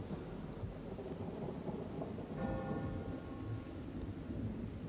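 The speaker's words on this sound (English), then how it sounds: "we should crossfade to our rain and thunder" Steady rain with rolling, rumbling thunder from a storm sound effect, a continuous wash of rainfall under low booms, moderately quiet and with no voices.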